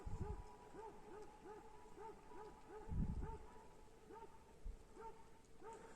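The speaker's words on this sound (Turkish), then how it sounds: "Yine bir havlama sesi geliyor ama." A dog barks over and over at a steady pace at night in a highland pasture, the calls sounding distant and fairly faint against a quiet background.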